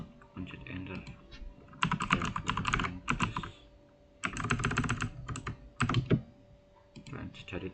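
Close, clear clatter of keys on a computer keyboard, typed in quick irregular bursts separated by short pauses.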